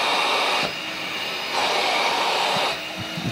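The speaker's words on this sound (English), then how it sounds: "that's reached full power now" Suction motor of a Cop Rose robot window cleaner running at full power, a steady loud whirring hiss that swells and dips slightly as the unit is handled, close and alone.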